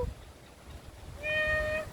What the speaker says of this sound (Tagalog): Cat calling. Meow. Meow.